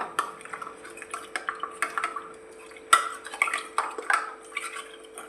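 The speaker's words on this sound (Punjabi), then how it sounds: "ਇਸ ਨੂੰ ਚੰਗੀ ਤਰ੍ਹਾਂ ਮਿਲਾ ਲੈਣਾ ਹੈ ਦੁੱਧ ਦੇ ਵਿੱਚ" Spoon stirring three spoonfuls of custard powder into cold raw milk in a bowl, a steady run of light scraping clinks and taps, close and alone, with one sharper knock partway through.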